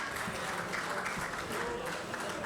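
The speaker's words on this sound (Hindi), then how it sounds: "जोरदार तालियों के साथ" Audience applause at a book launch event on Panchayati Raj representatives, a dense, steady burst of many hands clapping at close range that keeps going without a pause, with a little crowd murmur.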